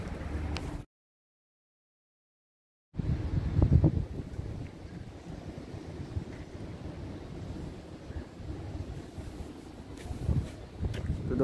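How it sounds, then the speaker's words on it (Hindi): Strong wind blows outdoors on a cloudy day, buffeting the microphone in a low, rough roar with gusty surges, broken by a brief total dropout before resuming and continuing steadily to the end. "ये हवा देख सकते हो दोस्तों कि कितनी तेज़ हवा है"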